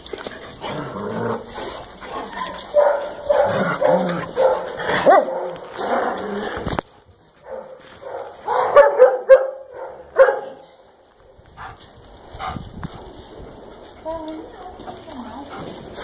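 Dogs yip and bark in bursts while playing indoors in a mixed room, the noisy scuffling broken by a quieter stretch, with someone talking over them.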